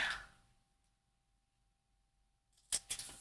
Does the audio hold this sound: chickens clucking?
no